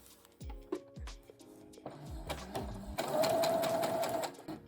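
A sewing machine fitted with a roller foot stitches through thick foam-backed fabric, starting and stopping in short bursts before running steadily in a longer, louder, close-up whirring stretch.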